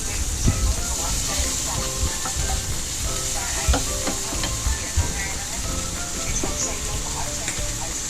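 Ginger and garlic sizzle steadily in a hot pan for fish soup, a dense, constant frying hiss with occasional stirring clinks and scrapes close by.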